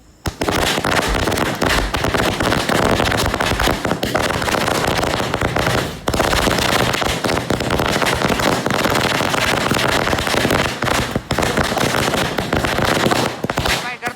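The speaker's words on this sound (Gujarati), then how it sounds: "હા જો ઓલા સ્ટાર વાળા ફટાકડા નીકળશે" Loud, dense crackling and popping of star firecrackers bursting in rapid succession, nearly continuous, with a brief lull before the barrage resumes.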